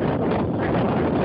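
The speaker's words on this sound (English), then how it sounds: "oh my gosh, it's so cold and windy" Strong, cold wind buffets the microphone in a steady, loud roar that fills the whole moment with no break, outdoors on a cold winter day.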